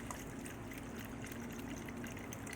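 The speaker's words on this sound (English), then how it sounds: "pour this whole thing in there." LA's Totally Awesome degreaser poured from its bottle into a container, a steady close liquid trickle and gurgle running unbroken throughout, quiet, with no talking.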